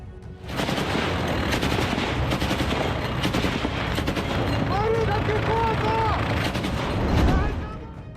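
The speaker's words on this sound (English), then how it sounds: "firing sustained bursts from their M242 Bushmaster automatic cannons" Rapid bursts of heavy M242 Bushmaster 25mm automatic cannon fire thunder continuously in combat, dense overlapping booms with no pauses, loud and close.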